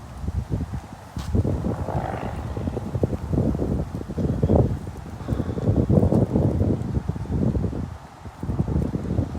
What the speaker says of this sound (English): How lucky we are we get to hear the beautiful wind in the trees.